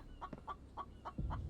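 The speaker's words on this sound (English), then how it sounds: "no, we're not going after chickens right now." Several short chicken clucks in a rhythmic series from the game The Infected, quiet and close, with a low rumble at the end and no voices.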